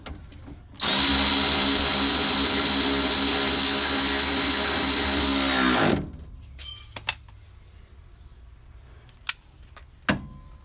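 A power tool drives a suspension through bolt tight on a Warhawk, one loud steady whirring run of about five seconds, followed by a few quiet metallic clicks and taps.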